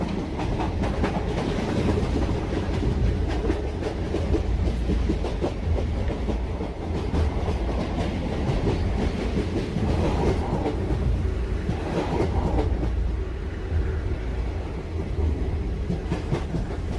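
A Rewa - Rajkot Express train in an ICF coach rolls along with a steady rumble and rhythmic clickety-clack, heard close from inside near the door, continuous throughout with no talk.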